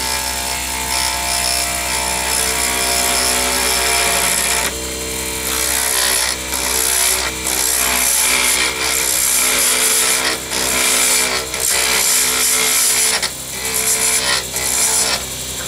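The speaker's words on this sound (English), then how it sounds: "We'll turn the lathe on. Turn the speed up because it's easier to do it fast than it is to do it slow." A wood lathe spinning fast while a skew chisel cuts an alt ebony pen blank gives a steady, loud, close scraping whir that runs continuously, with brief changes in texture as the tool contacts the spinning wood.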